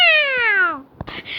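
A cat lets out a single loud, clear meow that slides downward in pitch, followed by a brief thump and rustling noise.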